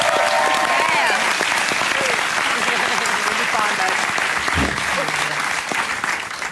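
A television music quiz show's studio audience gives a loud, sustained round of applause for a guest, a dense wash of clapping that holds for several seconds before easing slightly at the end.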